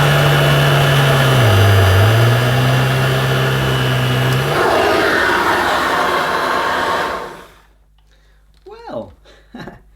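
A Dirt Devil Broomy Broom Vac 750 stick vacuum running with a steady whirring whine and a shifting motor pitch, then switching off and going quiet, after which a voice speaks.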